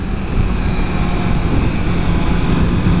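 Inline four engine of a 2014 Honda CBR650F revving hard around 6,000 rpm while riding, a steady, dense, smooth roar held throughout without a break.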